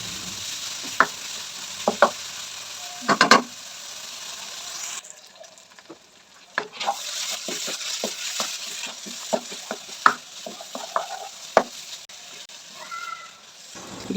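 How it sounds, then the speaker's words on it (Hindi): Minced mutton keema fries in a pan with a low sizzle under repeated sharp clacks and scrapes of a spoon stirring against the metal, which come irregularly. The frying drops briefly to a quieter hiss partway through. "तकरीबन 5 से 7 मिनट तक अच्छे से भूनेंगे इसे।"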